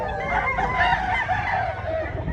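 A gamecock, an eight-month-old bird of Lemon 84 bloodline at a rooster expo in Consolacion, Cebu, crows and clucks nearby over a busy background of crowd murmur.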